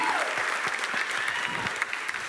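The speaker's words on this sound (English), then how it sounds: "Audience, let's give them one more round of applause." An audience at a pageant finals night gives a round of applause, a dense, sustained roar of many hands clapping in a large hall, steady and even with a few sharper claps near the end.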